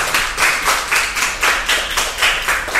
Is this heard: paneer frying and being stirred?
no